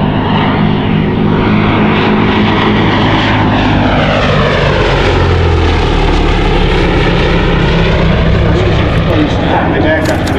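A vintage RAF fighter from the era that replaced the Gloster Gauntlet roars past at an air show, its loud piston engine droning steadily with a sweeping pitch change as it passes, while a commentator talks over it.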